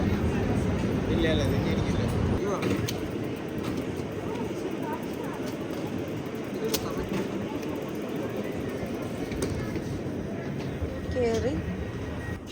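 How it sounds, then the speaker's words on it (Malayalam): A train moves along the line near Bergamo, Italy, with a steady low rumble and rolling noise running throughout while people talk over it. "ട്രെയിൻ പോണതിന്റെ ശബ്ദമാണോ ഈ കേക്കണേ?"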